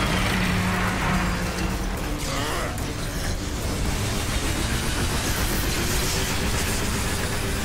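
A train moving in the video game Bulletstorm gives a loud, steady, broadband rushing rumble that barely changes over several seconds, with no speech on top.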